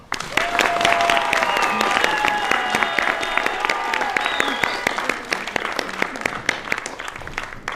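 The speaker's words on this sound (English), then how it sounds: "Let's give him one more round of applause." Audience applause at a high school graduation ceremony, a steady wash of many hands clapping with a few scattered cheers, fading slightly toward the end.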